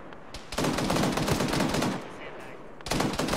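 Sustained automatic gunfire in a tactical military video game rattles in rapid, dense bursts near a bunker, loud and close, with a short pause before the firing resumes.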